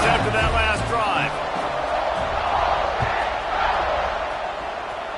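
Dense crowd roar from a college football video game, South Carolina versus Ole Miss, swells throughout with shouts and whoops, while a voice talks over it early on.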